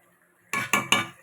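A lid goes onto a pot of bottle gourd and rohu fish curry with three quick metallic clinks, the first alone and the next two close together, in a quiet kitchen.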